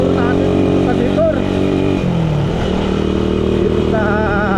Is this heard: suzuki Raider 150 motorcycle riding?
yes